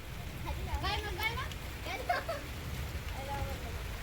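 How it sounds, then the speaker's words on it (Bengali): Cold rain falls as a soft, steady hiss close by, while voices chatter over it. "আজ ঠান্ডা ভাবে বৃষ্টি হচ্ছে"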